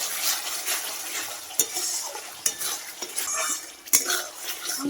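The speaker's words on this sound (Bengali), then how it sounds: "তারপরে এখন এটা ভালো করে ভেজে নেব" Prawns and young jackfruit with salt, turmeric and Kashmiri chilli powder sizzle in a pan while a metal spatula scrapes and clanks against it in irregular strokes, with several sharp knocks.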